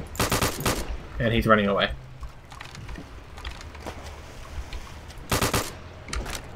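MP40 and Sturmgewehr submachine-gun and assault-rifle fire in the video game Return to Castle Wolfenstein: loud rapid bursts at the start and again near the end, with someone talking briefly between them.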